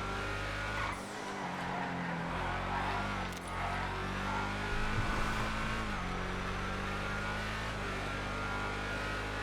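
Race cars roar around a track in a GTA FiveM online race, a steady dense engine drone with revving shifts and tyres squealing and skidding throughout, loud and continuous.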